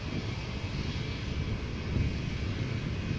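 An Airbus A220 airliner, formerly the Bombardier C Series, at Amsterdam Schiphol Airport, a steady broad engine roar with a faint high whine, continuous and moderately loud, with no talk.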